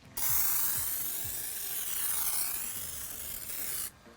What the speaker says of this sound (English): Pre-spraying the panel with the rinseless wash